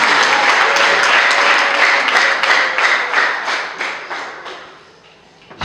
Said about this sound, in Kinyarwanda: Reka twese dukomere Imana yacu amashyi.